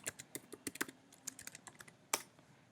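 Quick, light tapping of a computer keyboard as a command is typed into a terminal, irregular bursts of close, quiet keystrokes.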